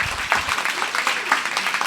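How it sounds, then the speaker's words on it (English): Applause from an audience at a poetry evening as the poets gather on stage, a short burst of clapping and crowd noise with a few louder individual claps and faint voices mixed in. "I want to welcome them all to the stage for a last round of applause"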